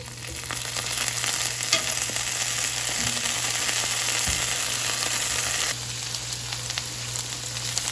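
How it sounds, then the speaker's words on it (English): Garlic and red pepper flakes sauté in a pan with a continuous, even sizzle, close and alone, dipping slightly in loudness near the end. "you can saute your garlic and red pepper flakes until they're fragrant"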